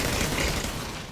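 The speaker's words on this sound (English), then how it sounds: "you hear more gunfire happening." Rapid gunfire from a sci-fi tabletop roleplaying session, a dense steady crackle of shots filling the whole second at a loud, even level with no voices.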